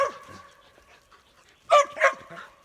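Two sharp barks ring out close together near the end from dogs warning off wild dogs, after a stretch of quieter, distant barking and faint background noise.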